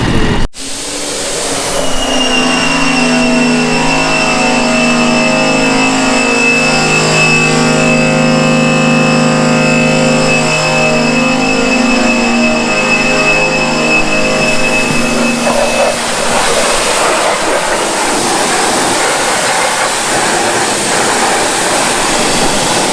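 A power washer with a turbo nozzle sprays while cleaning under a car's hood: a loud, steady, high mechanical whine with a hissing rush. It gives way to a broader rough spray noise near the end.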